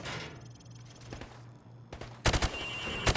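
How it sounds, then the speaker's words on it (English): Rifle fired from the hip at targets on a Call of Duty 4 Remastered shooting range: a tight burst of loud sharp shots near the end after quieter game ambience and a steady hum. "Shoot at the targets while firing from the hip."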